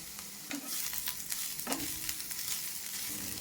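Cabbage, capsicum and tomato fry in a pan for chicken chowmein, a soft continuous sizzle broken by repeated scraping stirs and clacks of a spatula, with no talking.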